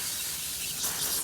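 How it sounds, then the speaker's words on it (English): Cleaner is sprayed onto front hub bearing parts of a Nissan e-NV200 in a steady, close, hissing burst lasting just over a second, with no talk. "spray the heck out of these as well"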